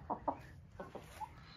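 A chicken gives a few short, soft clucks spaced irregularly over a quiet background.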